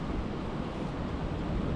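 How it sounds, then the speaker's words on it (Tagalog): Cold wind blowing outdoors in Taiwan by the water while fishing, a steady broadband rushing gust buffeting the microphone, continuous and fairly even with no voices. "Uy, mahangin na po."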